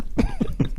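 A person imitates a smoker's coughing fit: four short, harsh cough bursts in quick succession, close and loud, with no other sound.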